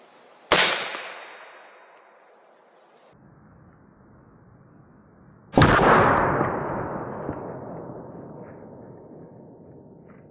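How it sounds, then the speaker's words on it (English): Two loud, sharp 6mm Creedmoor rifle shots fired into ballistic gel outdoors, each a sudden blast followed by a long rolling echo, spaced about five seconds apart. "let's get shooting"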